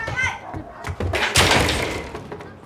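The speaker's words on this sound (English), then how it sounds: "Remember the little boy slamming the door in the girl's face?" A door slams shut in a television advertisement, a loud thud followed by a rattling crash that trails off, with a voice heard just before.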